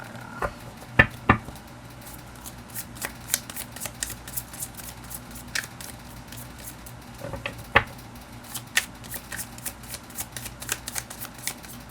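Tarot cards being shuffled by hand, soft and fairly quiet, with scattered light taps and riffling flicks spread across the whole stretch and no one talking.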